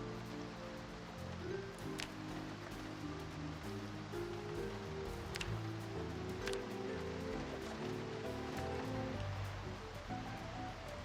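Steady rain hiss with tonal engine drone of a vehicle driving down a highway in Project Zomboid Build 42, continuous and even throughout, no talking.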